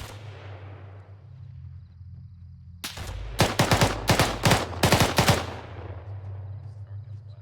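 Bursts of gunfire and mortar shots from Arma 3 break out in the middle of a low steady hum: several sharp, loud volleys in quick succession, then a fading rumble.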